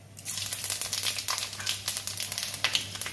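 Panch phoron spices crackle and sizzle in hot mustard oil, a close, busy burst of rapid popping and spitting over about three seconds with no speech.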